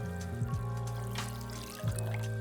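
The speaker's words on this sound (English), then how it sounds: "then I'll add water until the consistency is like a tomato broth" Water pours into tomato passata sauce in a pan, a steady trickling stream heard close and continuous, with a low mechanical hum beneath it.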